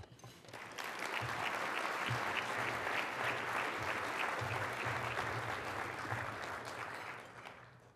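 A large audience at a forum's closing keynote breaks into sustained, dense applause that holds steady for several seconds, close and loud, before tapering off at the end.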